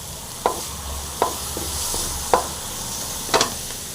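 Green chillies and curry leaves frying in a pan, a soft steady hiss broken by a few sharp spatula scrapes and taps close by, with no voices.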